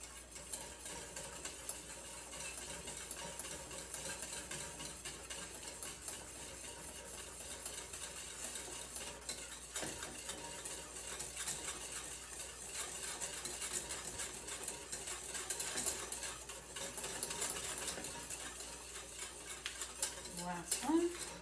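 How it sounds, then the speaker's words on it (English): A spoon stirs butter into citrus curd in a pot, giving a faint, steady scraping and soft clinking against the metal. It is quiet and continuous, with no voices over it. "as you're stirring in the butter"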